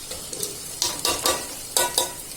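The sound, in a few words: dal being roasted and stirred in a pan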